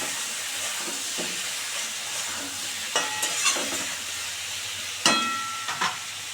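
Pressure-boiled jackfruit stir-fried with fried onions, a steady hissing sizzle with occasional scraping stirs of a utensil in the pan.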